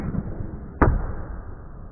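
An arrow tipped with a Cheap Shot broadhead strikes an archery target, landing as a single sharp, close thud that stands out briefly from quiet background noise.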